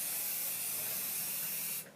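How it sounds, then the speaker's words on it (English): Spray adhesive hisses in one steady, even burst onto quilt backing fabric from about a foot away, then cuts off abruptly. "I'm just going to lightly spray all over the surface of the backing"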